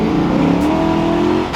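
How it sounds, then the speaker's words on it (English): Corvette engine roaring loud and close as the clutch slips during a hard 1-2 gear shift, a sustained strained drone with rising pitch. "That 1-2 shift was all clutch."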